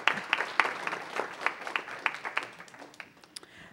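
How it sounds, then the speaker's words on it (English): A small group claps steadily at a council meeting, the applause thinning and fading toward the end. "please give him a round of applause."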